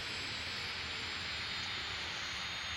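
Boeing 737-800 jet engines in the X-Plane 11 flight simulator spool down after the fuel is cut, leaving a faint, steady, hissing whine with no distinct events.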